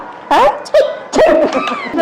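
A dog at a pet market in Dubai gives a few short, high yipping barks and whimpers in separate bursts, fairly close and loud against a busy background.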